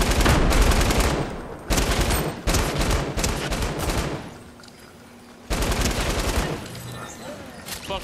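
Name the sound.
gunfire in the video game Fortnite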